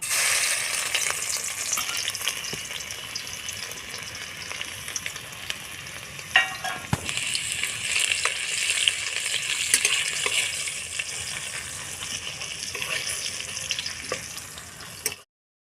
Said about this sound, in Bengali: তেলটা গরম হয়ে গেছে রসুনগুলো দিয়ে দেবো